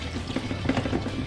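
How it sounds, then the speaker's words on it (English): Pickling brine drained from fish into a strainer in a kitchen, a soft short pour of liquid with faint trickling close by. "you're just going to want to drain everything and give it a good rinse under cold water"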